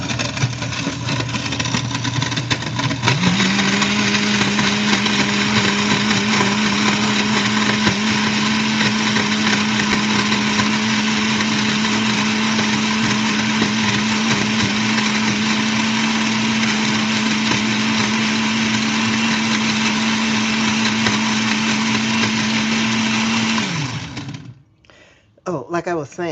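A blender whirring through a smoothie, a loud steady motor drone that rises in pitch after a few seconds, holds for about twenty seconds, then winds down abruptly; a voice can be faintly heard around it.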